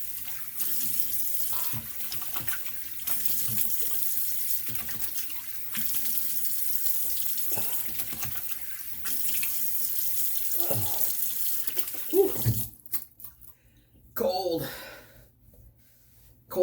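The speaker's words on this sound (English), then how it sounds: "Cold water rinse." Cold tap water runs steadily into a sink as someone rinses after a razor shave, a continuous hiss at close range, with a few breaths and small splashes near the end.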